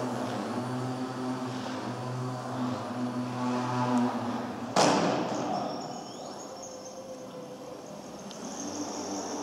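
An RCF Turbo Crack Beaver EPP foam RC airplane flies outdoors on its maiden flight, its steady electric motor drone holding for several seconds before a sharp thump, then a quieter, distant engine tone.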